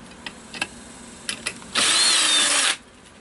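A power drill drives a self-tapping sheet metal screw into thin metal, a steady high whine lasting about a second, preceded by a few short clicks and taps.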